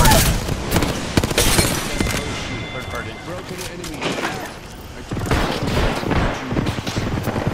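Gunfire in the Apex Legends video game, dense bursts of shots and impacts throughout, mixed with game effects and occasional voice chatter, loud and close.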